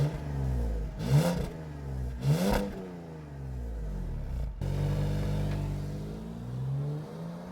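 BMW E61 estate engine revving hard in two sharp bursts during a launch, followed by a steady higher-pitched run as the car pulls away, loud and close with no talking.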